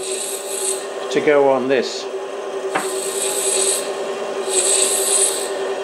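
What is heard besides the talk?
machining out the internal diameter of a nut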